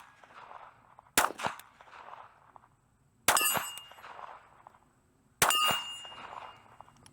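A Ruger LCP Max pistol with a 10-round magazine fires three sharp, loud shots spaced about two seconds apart, each with a metallic ring and a short echo tail, and no voices.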